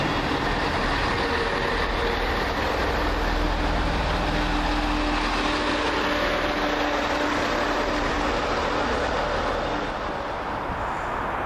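A Class 158 diesel multiple unit, set 158834, rolls into Telford Central station, a steady broad rumble with rail noise that holds at close range throughout, no voices.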